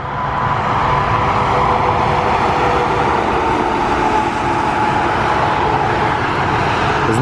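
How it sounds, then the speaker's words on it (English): Road traffic rolls past continuously nearby on an autumn roadside on the US East Coast, a steady broadband wash of tyres and engines that stays loud and even throughout, with no one talking. "the back here where we can watch the traffic go by a little bit"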